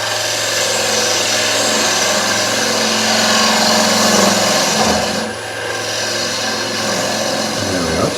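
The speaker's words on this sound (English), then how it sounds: "Get your bowl gouge. Where you can get that bevel rubbing, give a little push cut in the centre." A bowl gouge makes a push cut into wood spinning on a lathe, centring a raised bowl. It gives a steady, close, continuous rasping hiss over the lathe's hum, with a short dip partway through.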